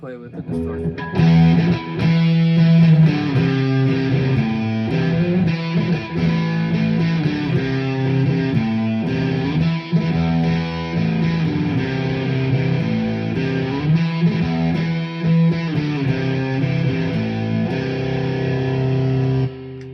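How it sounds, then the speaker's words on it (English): An electric guitar with heavy distortion plays sustained chords and riffs continuously, loud and close. "part, I'm going to play with the distortion."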